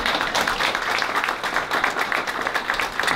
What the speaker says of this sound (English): So just a brief round of applause for Connie.